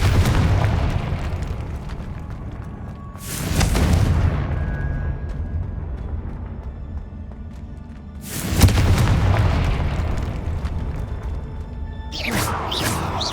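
Confringo fire-blast spell cast repeatedly in Hogwarts Legacy, heard as two loud booming bursts with a few crackling pops near the end, set over a steady rumbling in-game ambience.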